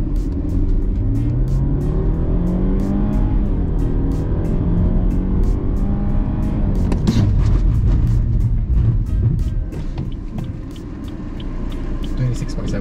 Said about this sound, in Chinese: 等下我会从这边 full throttle 一直到前面来一个紧急 brake